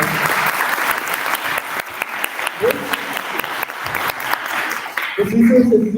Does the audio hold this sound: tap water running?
no